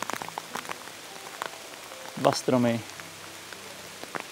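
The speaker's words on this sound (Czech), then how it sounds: "nádherný déšť" Rain pattering on surfaces outdoors in a landscape setting, a steady scatter of close drops, while someone speaks briefly in Czech over it.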